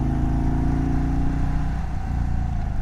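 An Indian motorcycle with a Thunderstroke engine runs under light throttle, its steady low rumble holding close and loud for a few seconds with little change in pitch.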